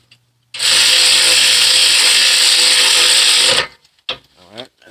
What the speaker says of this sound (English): Caliper bracket bolts, so we're going to tighten them back up.